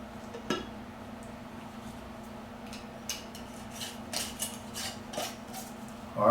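A lid is fitted back onto a container, with scattered clinks, scrapes and rubbing knocks close by, ending in a louder clatter.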